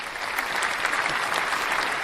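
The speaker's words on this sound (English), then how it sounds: "An applause." Applause sound effect dropped into a conversation about mental health goals: a continuous wash of many hands clapping, fairly loud and even throughout, without anyone speaking over it.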